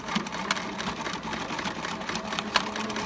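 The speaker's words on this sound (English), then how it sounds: "now I'm just gonna sew back and forth here" A sewing machine stitches replacement elastic into a BumGenius cloth diaper, running back and forth with a steady close whirring hum and faint rhythmic needle ticks.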